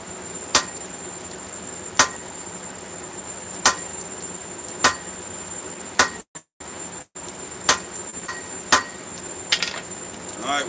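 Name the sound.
hammer forging metal on an anvil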